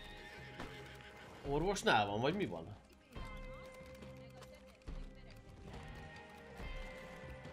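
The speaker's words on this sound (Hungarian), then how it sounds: "Jézusom, az mi volt az a ló?" A horse whinnies loudly in a rising and falling call, followed by scattered hoof clops and background noise, while people talk over it.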